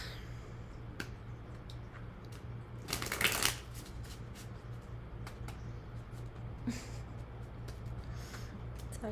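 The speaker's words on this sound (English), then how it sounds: "let's get you some oracle cards" Oracle cards being shuffled during a tarot reading: a soft riffling burst stands out midway, with scattered light card clicks and taps before and after over a steady low hum.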